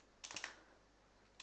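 A command being typed on a computer keyboard, with a quick run of a few soft key clicks followed by one more faint tap a moment later, all quiet and close with no talking.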